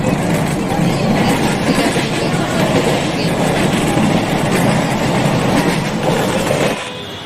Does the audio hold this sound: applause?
no